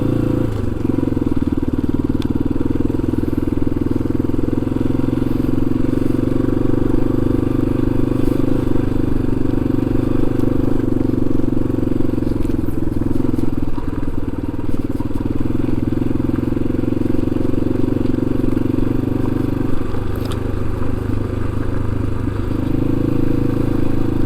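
Yamaha XT250 motorcycle riding along a rural road, its engine a steady, loud drone throughout with little change in pitch, plus faint rattling and wind rush.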